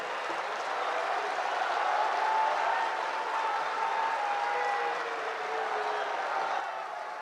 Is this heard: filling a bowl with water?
no